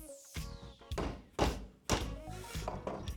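A cartridge bottom bracket's centre sleeve is tapped into place on a bicycle frame with a few dull, close thunks spaced unevenly, mixed with low handling noise and some quiet metallic ringing.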